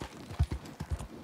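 Horse hooves clip-clop in the video game Red Dead Redemption 2, a quick series of close, soft thuds in an even walking rhythm.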